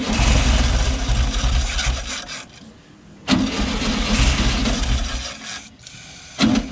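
A 1971 Volkswagen Beetle engine being revived cranks with a raspy, churning starter sound in long bursts, pausing briefly between attempts, loud and close with no talking.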